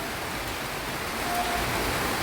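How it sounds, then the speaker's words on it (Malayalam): Steady, dense hiss of heavy rain pouring continuously during a thunderstorm, with no other sounds breaking through. "നല്ല അതിശക്തമായ മഴയും ഇടിയെല്ലാമാണ് വന്നേക്കുന്നത്"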